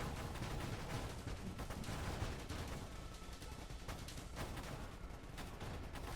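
Spaceship weapon firing a dense stream of bullets in the Nova Drift video game, a continuous fizzing rattle of rapid shots with no break, moderately faint.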